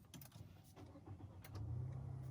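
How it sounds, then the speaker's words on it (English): A Mazda CX-3 being switched back on, its engine starting and settling into a steady low idle, close and fairly quiet, with a faint jingle of keys early on. "when you switch the car back on again"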